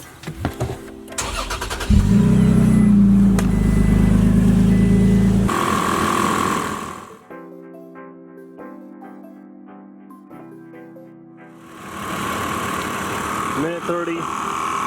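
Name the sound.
truck engine starting and running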